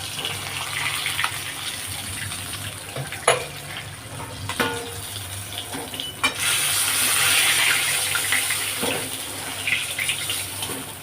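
Pieces of rui fish fry in oil in a pan, a close, continuous sizzling hiss broken by a few sharp knocks and clatters of a utensil against the pan, and the sizzle swells louder partway through.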